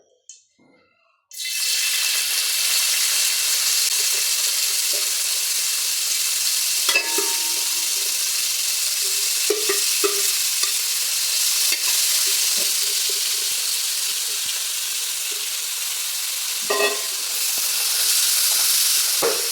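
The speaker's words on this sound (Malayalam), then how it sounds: "എണ്ണ നന്നായി പാകമായിട്ട് വന്നപ്പോൾ നമ്മൾ സവാള ഒന്ന് വഴറ്റിയെടുക്കാം." Sliced onions sautéing in hot oil with a little ghee for chicken biryani: a steady, close, loud sizzle starts abruptly and holds throughout, with occasional stirring scrapes and clinks and no talking.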